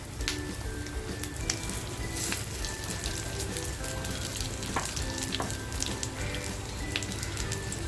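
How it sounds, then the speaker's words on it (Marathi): Surmai fish fries in a banana leaf in a pan, giving a continuous, close, crackling sizzle with scattered sharp pops throughout. "केळीच्या पानामध्येच ही सुरमई फ्राय करते"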